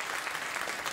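Steady applause from a late-night talk show studio audience, dense clapping filling the whole moment at an even level.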